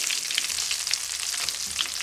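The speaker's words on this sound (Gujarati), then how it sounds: "વઘાર તેલ આવી જાય પછી હવે નાખવાનું છે આપણે જીરું" Cumin seeds sizzle in hot oil for a tempering while cooking kaju paneer, a continuous bright crackling fry with small pops throughout.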